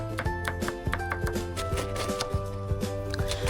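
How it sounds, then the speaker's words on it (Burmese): A knife chops garlic and onion close up on a cutting board for fried noodles, with quick, evenly spaced thuds continuing throughout. "ခောက်ဆွဲကြော်ဖို့အတွက်ကျက်သွန်မြူကျက်သွန်နီလေးတွေကိုနှုတ်နှုတ်ဆင်းထားလိုက်ပါတယ်"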